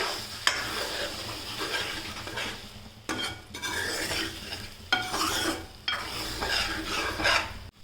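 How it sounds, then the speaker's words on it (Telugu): Spiced egg bhurji mixture with coriander powder being stirred in a hot pan, steady scraping and stirring strokes over a soft sizzle, close and continuous with brief pauses between bursts. "ఇప్పుడు బాగా మిక్స్ చేసుకోవాలి"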